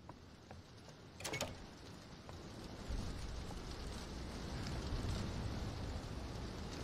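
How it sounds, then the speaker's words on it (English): Rain drumming on windows in the Roblox horror game DOORS, a steady broadband patter that swells louder partway through and continues alone, with a sharp brief creak or knock near the start. "that rain is loud on the windows"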